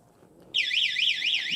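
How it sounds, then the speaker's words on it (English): A Honda Grom motorcycle alarm suddenly starts, a loud warbling tone sweeping up and down repeatedly, close and piercing. "There goes the alarm."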